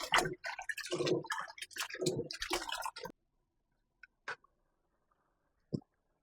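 Red peas being washed in water for Jamaican chicken soup: for three seconds a burst of close wet swishing and rubbing, then near silence with a few isolated drips and clicks.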